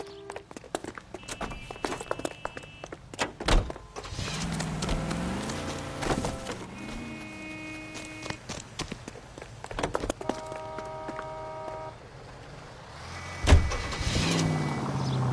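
A car in the video game L.A. Noire starts and pulls away, its engine rising and falling through gear changes under a steady mid-level hum, with clicks and scattered game sounds around it.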